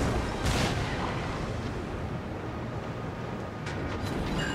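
Battleship Warspite's main guns firing in World of Warships, a deep booming salvo with a loud broadband blast early on and further lighter reports near the end, over steady rumbling battle noise.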